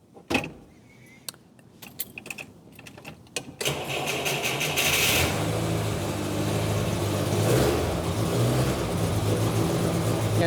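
A 1976 Volga GAZ M24 taxi engine is started on choke: a few sharp clicks and rattles, then the starter cranks and the engine catches near the mic and settles into a loud, rough, steady idle.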